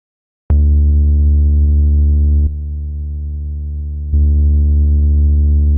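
A loud, steady low distorted sub bass synth tone with rich harmonics, dropping to a duller, quieter sustained note midway, then returning to the brighter buzzing tone.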